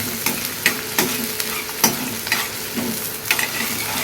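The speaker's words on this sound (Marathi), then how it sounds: "आता लगेच कांदा टाकून घेऊ कांदा पण चांगला परतून घेऊया" Chopped onion fries in hot oil after browned garlic for a chicken dish, sizzling loudly and steadily while a spoon scrapes and stirs the pan in regular strokes, up close and with no talk.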